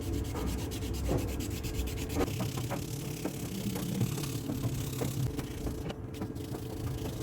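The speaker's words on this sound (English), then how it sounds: "Here I got the 400 grit, and we're gonna dip it in water, start sanding." Steady rubbing of wet 400 grit sandpaper against a GM truck door handle, back-and-forth strokes up close, a soft continuous scratchy texture with no speech.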